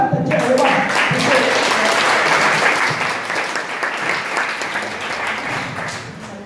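An audience breaks into a round of applause at an author club speech session in Malaysia, loud dense clapping that starts over a brief voice and slowly tapers off.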